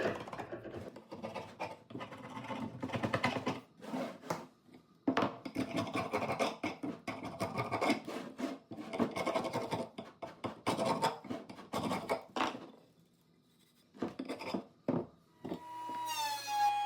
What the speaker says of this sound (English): Using a dull chisel, I scrape away the remaining glue.